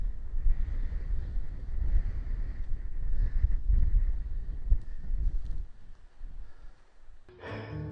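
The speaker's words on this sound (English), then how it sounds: "Wind." Wind blows across open countryside near a fence, a steady low rumble buffeting the microphone throughout, fairly loud and close, with no other clear sound.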